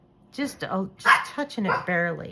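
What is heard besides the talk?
dogs barking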